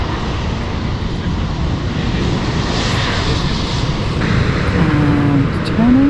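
Airplane landing on the runway at London City Airport, heard from close by: a steady, loud broadband engine roar that holds throughout and swells slightly near the end, with faint talk underneath.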